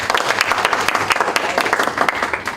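Lecture audience clapping in steady, dense applause throughout, a crowded patter of many hands at moderate loudness with no voices over it.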